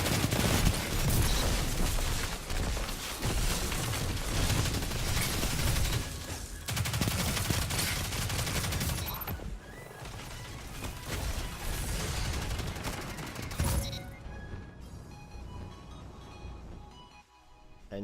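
Rapid, sustained gunfire from the Risk Runner weapon in the video game Destiny 2, loud and continuous bursts for most of the stretch, thinning out toward the end with no talking.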